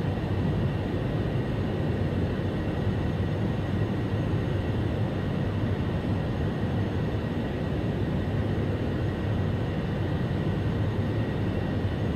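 Airbus A300-600R airliner landing in the X-Plane 11 flight simulator, a steady loud engine and airflow rumble with a broad hiss, constant throughout, no voices over it.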